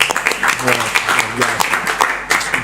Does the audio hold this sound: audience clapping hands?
yes